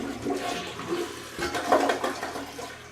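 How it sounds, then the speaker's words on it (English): A newly replaced toilet flushes close by, a turbulent rushing and gurgling of water that surges and swirls for a few seconds. "Here we go, first flush."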